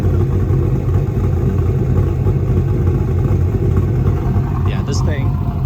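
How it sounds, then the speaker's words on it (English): A 2002 Pontiac Trans Am WS6 with a BTR Stage 2 cam idles steadily outdoors, a loud, even low rumble with a slightly choppy pulse throughout, and a brief higher chirp near the end. "Go outside, I'll let you hear what it sounds like idling."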